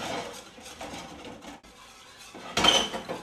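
A utensil scrapes and stirs flour roux in a pot for gumbo, working burned bits off the side with continuous rubbing strokes and a louder clatter of metal near the end.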